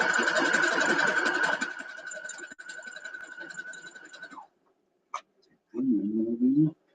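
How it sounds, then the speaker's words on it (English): Sewing machine stitching a quarter-inch seam on a nine-patch quilt block, a steady loud mechanical whir running for about four seconds before slowing and stopping, followed by a short click and a brief voice. "I'm going to go ahead and sew a 1/4 of an inch"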